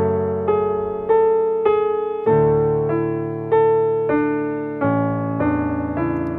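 Solo piano plays the intro of a piece: a gentle, clear sequence of struck notes and chords about every half second, each ringing and fading, close and moderately loud with no voices.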